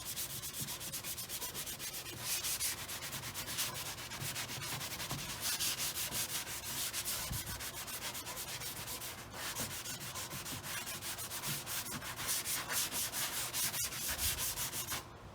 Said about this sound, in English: so I'm going to give it a quick sand.